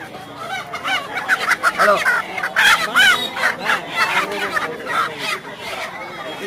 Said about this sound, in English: Local chicken.